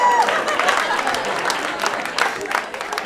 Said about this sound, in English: have a round of applause for white people that are here